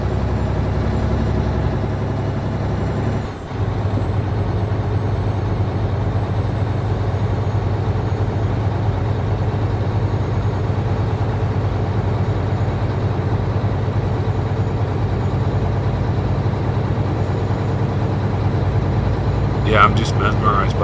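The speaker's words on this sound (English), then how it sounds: "I'm just mesmerized by that engine sound" A heavy truck engine idles and rumbles steadily at close range in a parking lot, with a low droning tone throughout and a brief dip partway through.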